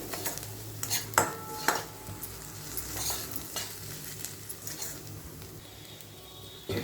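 Ginger garlic paste frying in a pan for a curry, a soft continuous sizzle with occasional spoon scrapes and light metal clinks, close and fairly quiet, with no talking.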